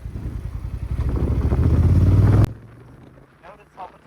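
A Yamaha MT-07 twin-cylinder motorcycle engine revs hard, close and loud, climbing in pitch as it accelerates downhill under throttle, then cuts off abruptly. A rider's voice is heard afterward.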